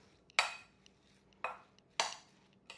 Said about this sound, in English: we're going to give it a mix